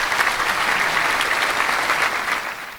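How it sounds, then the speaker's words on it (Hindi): Loud, steady applause from an audience at a Hindi poetry gathering (kavi sammelan), a dense wash of clapping that holds for nearly three seconds before easing slightly at the end. "एक बार आप सभी लोग जोरदार तालियों से अभिनंदन कीजिए"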